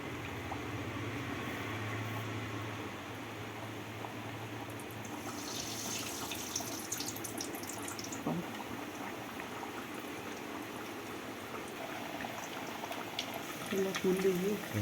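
Kachori fries in oil over a slow flame, a steady bubbling sizzle that runs throughout, with someone talking over it.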